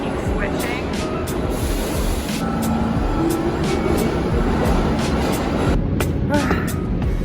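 A New York City subway train rumbles loudly and continuously with rattling, clacking and rushing noise throughout, a few brief squeals rising above the roar.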